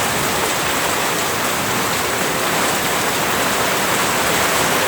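Heavy rain pours down steadily during a thunderstorm, a dense, even roar of drops with no pauses and no thunder clap standing out.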